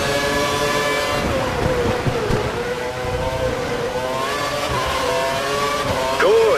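Engine whine of a Formula One race car in the game F1 2012 on the Barcelona circuit, with rising and falling pitch as cars close in and pass, under faint talk.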